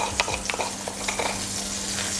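Garlic butter sizzles and fries in a pan, with a steady crackling hiss and a few light stirring scrapes, close and alone without talk.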